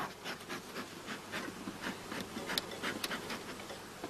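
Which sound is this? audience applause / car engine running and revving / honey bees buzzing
honey bees buzzing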